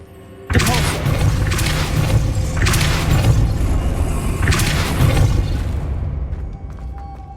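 A Depulso spell blast in the video game Hogwarts Legacy, a sudden loud boom that hits hard and then rolls on as a roaring rumble with repeated surges before fading out.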